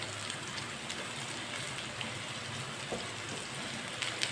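Cut eggplant fries in a pan, a soft, even crackling sizzle like light rain, fairly quiet and steady with a few faint clicks, no voices.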